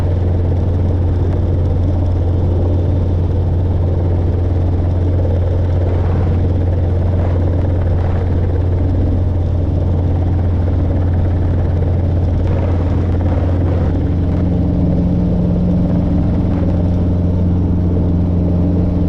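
Robinson R22 helicopter in flight during a training lesson, a steady low rotor thump and engine drone running continuously throughout, close and loud with no talk over it.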